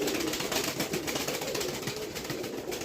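A female pigeon coos softly amid a continuous broadband wash of loft or room noise, with faint bird calls running through the whole stretch and no talking.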